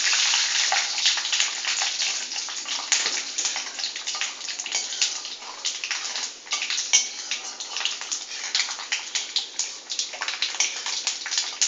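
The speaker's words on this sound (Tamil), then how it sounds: "கடுகும் வெந்தயமும் வெடிச்சதுக்கப்புறம் இதை போடணும்." Mustard and fenugreek seeds crackling and popping in hot oil while tempering for puli kachal (tamarind paste), a dense, continuous sizzle with sharp pops throughout, close and fairly loud with no talking.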